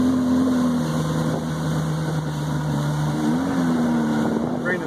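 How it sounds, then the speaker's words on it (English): A Yamaha four-stroke outboard motor running on a boat with a failing fuel pump and low fuel pressure, its steady drone wavering and sagging in pitch as it bogs down, close and loud, with wind noise over the microphone. "motor's starting to bog down"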